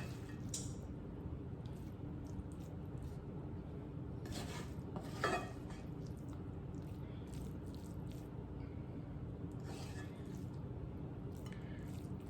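A spoon scoops a spinach mixture for a turkey bacon and spinach quiche into a sweet potato pie crust, with scattered soft clinks and wet squishes over a steady low background hum.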